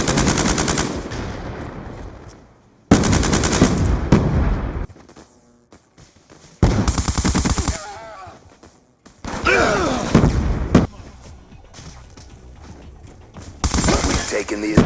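Bursts of MK48 machine gun fire in Black Ops 2, loud rapid automatic volleys of a few seconds each separated by short pauses, with faint game voice chatter in the gaps.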